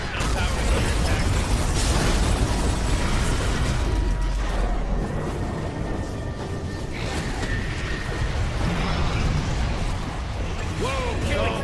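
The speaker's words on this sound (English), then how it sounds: "Dire's middle tower is under attack." Dota 2 gameplay with a middle tower under attack: a dense, continuous mix of impacts, pops and mechanical clanks, with a voice heard over the action.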